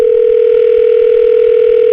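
A steady, loud telephone tone holds unbroken for two seconds as a call goes through to a radio station's program director, with no voices.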